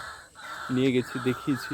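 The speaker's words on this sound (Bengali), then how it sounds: "প্রচুর পাখি ডাকছে" Crows cawing in a quiet, rain-freshened village by a bathing ghat in the Sundarbans, a few short rough caws heard close, partly under a man's speech.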